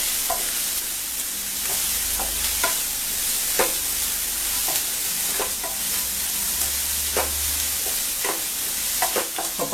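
Onions fry in oil for mutton keema pepper fry, a steady close sizzle broken by repeated scrapes and clicks of a stirring spoon against the pan, with no voices.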